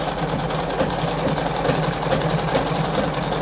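Singer 5107 domestic sewing machine stitching a dotted zigzag through fabric, its motor and needle running in a fast, even mechanical chatter, close and continuous with no voices.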